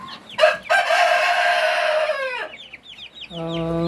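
Young Rhode Island Red chicks peeping in a farm setting, a close run of high, rising and falling chirps with a few sharp calls, followed by a steady tonal hum near the end.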